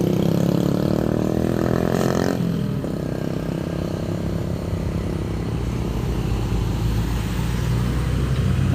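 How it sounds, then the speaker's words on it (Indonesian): A vehicle engine labours up a steep incline, droning steadily with a rising tone that drops sharply partway through before settling into a low, continuous grind. "Mobil pribadi aja susah nanjak ngos-ngosan ya."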